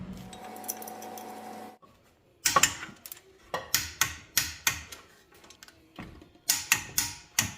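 A torque wrench tightens the front brake caliper bolts on a 2020-or-later Toyota Supra. After a short stretch of low noise, about a dozen sharp, close metallic clicks come in a fairly regular rhythm.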